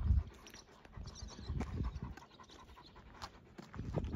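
Dog panting in quick rhythmic breaths, close and fairly quiet, with some shuffling noise and no speech.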